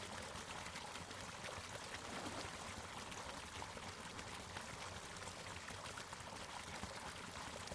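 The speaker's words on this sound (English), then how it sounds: "The water from the hatchery drains downhill into the fingerling pens." Water from a trout hatchery drains downhill into fingerling pens, a steady broadband rush and splash of flowing water, continuous and fairly distant, with no speech.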